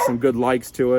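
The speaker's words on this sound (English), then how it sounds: "Pardon the dog bark there in the background." A dog barks in the background, short yipping barks mixed under a person talking close by.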